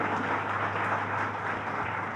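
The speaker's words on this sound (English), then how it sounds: "Let's give them a round of applause." Steady applause from an audience at a governor's press announcement about a new Penn Station entrance, a dense continuous patter of clapping held at even level throughout, with a faint low hum underneath.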